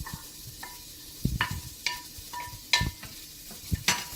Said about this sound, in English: Now I'm gonna add my onion